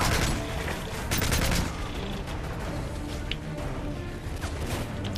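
Rapid bursts of gunfire from Modern Warfare 3 Spec Ops on Veteran difficulty, a dense fusillade up front easing into scattered shots and clatter, loud and continuous with no talking.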